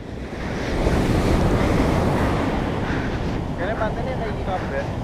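Ocean waves wash steadily onto a beach, a constant broad roar of surf with wind noise buffeting the microphone throughout, and a faint voice and bird-like chirps surface near the end.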